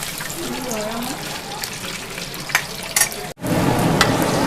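Chicken 65 deep frying in oil in a big celebration batch, a steady broadband crackle of bubbling oil that cuts briefly and then returns louder as the flame is raised, with faint voices in the background.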